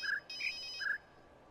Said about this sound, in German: Das Handybimmel.